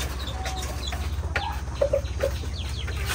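Chickens on a poultry farm cluck in a few short, separate calls over steady background hum, with no voices.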